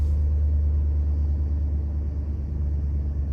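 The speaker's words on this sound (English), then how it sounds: "press the brake and start the vehicle" A 2009–2010 Dodge Journey's engine idles after starting, a steady low rumble with a faint high whine, close and constant without talk.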